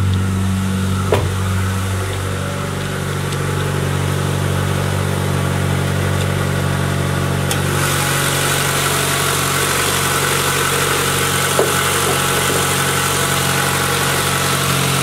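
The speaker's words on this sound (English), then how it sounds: "And this is my engine." A 1997 Honda Accord LX engine with stock air intake idles steadily with a constant low rumble and vibration, loud and close, with a faint click or two and no talking.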